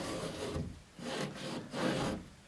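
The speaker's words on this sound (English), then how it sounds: "I still want to take the back side of my knife and just dent these edges in" The back of a knife is pressed and dragged along the edges of a drywall patch, producing three rough, scraping rubs close by, each a few tenths of a second long with short pauses between, with no voices.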